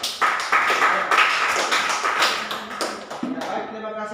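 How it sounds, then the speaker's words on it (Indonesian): A classroom group claps for the first group of students, a loud, uneven burst of many hands that thins out toward the end. "Tepuk tangan dulu untuk kelompok 1, ya."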